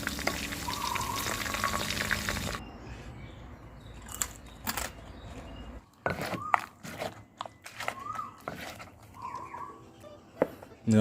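Pork marinated in fish sauce deep-fries in hot oil, giving a dense, steady sizzle for about two seconds before it gives way to quieter, scattered crackles and sharp clicks.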